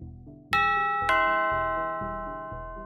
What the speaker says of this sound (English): The Baxter Building's doorbell soon rings